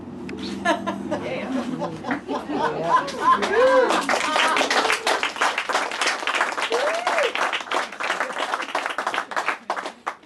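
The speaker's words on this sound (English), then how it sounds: "nobody ever clapped in the middle of this poem before." An audience claps and chuckles partway through a spoken-word poem reading, a burst of applause with scattered laughter mixed in as the performer's voice continues over it.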